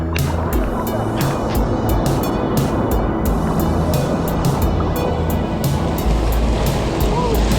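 Ocean surf rolling in on a Bali beach, a loud continuous wash of breaking waves with rushing water and intermittent bursts, no talking.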